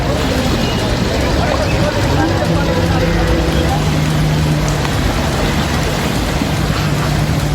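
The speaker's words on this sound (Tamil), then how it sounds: "அம்பாலாவிலும் கனமழை கொட்டி தீர்த்தது" Heavy rain pouring down in Ambala during flooding, a loud, unbroken hiss of downpour that stays steady from start to finish, with a faint low hum of traffic beneath it.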